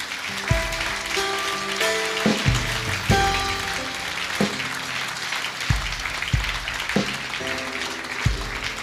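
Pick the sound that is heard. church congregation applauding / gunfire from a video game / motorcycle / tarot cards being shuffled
church congregation applauding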